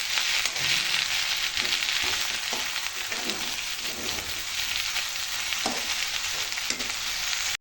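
Vegetables for upma fry in a pan with a steady, dense sizzle throughout, punctuated by soft scraping and stirring knocks, close and fairly loud with no voices.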